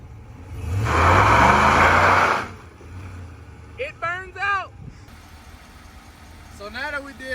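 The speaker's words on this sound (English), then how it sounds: "let's see if it does a burnout" A Ram Rebel 1500 pickup with 3.92 rear gears does a burnout: a loud surge of engine roar and tire spin for about two seconds, then fading, followed by people talking.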